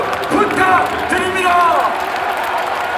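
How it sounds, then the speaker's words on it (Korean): An audience at a Democratic Party leadership convention breaks into warm applause. Claps and crowd noise carry through the short stretch, loud and close, with faint voices mixed in. "뜨거운 박수"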